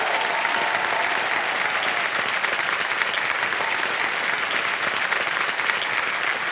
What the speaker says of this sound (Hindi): ताली बज जाए इनके लिए